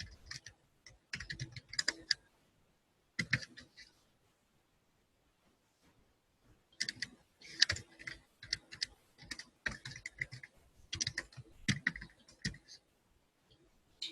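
Fingers typing on a computer keyboard while filling in a billing page, bursts of quick clicking keystrokes separated by quiet pauses, close and fairly soft, with no voices.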